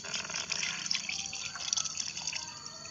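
Coconut water pours steadily into a homemade organic liquid fertilizer mixture of termite nest and other ingredients, a continuous close trickling and splashing stream without speech.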